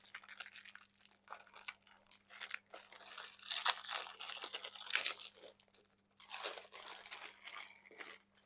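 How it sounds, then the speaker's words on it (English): Ritz crackers being handled and laid out on a wooden charcuterie board, with close crinkling of the packaging and crisp crunchy rustles in irregular bursts, no voices. "I'm going to go ahead and start laying out some of the crackers. Here I'm going to use the some Ritz crackers."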